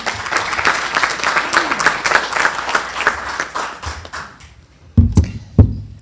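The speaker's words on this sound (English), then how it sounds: "Please give her a round of applause as she comes to the podium." Audience applause fills a Manatee Tiger Bay Club luncheon room as a healthcare speaker walks to the podium, steady dense clapping that thins out and fades after about four seconds, followed by a few close thumps and handling knocks.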